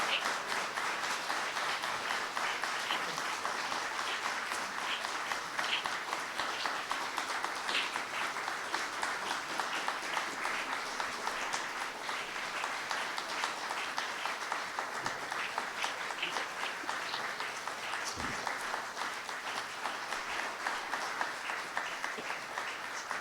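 A warm, sustained round of audience applause for an honoree fills the whole stretch, dense and even from many hands, steady in loudness with no talk over it.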